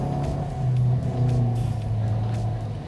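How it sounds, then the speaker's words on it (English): A 2022 Perodua Alza 1.5 MPV engine held at steady revs in power mode, a loud continuous drone heard from inside the car, slightly rising and falling with no talk over it. "there's a drive mode selector button here, which you activate power mode, so it holds the revs a little bit longer"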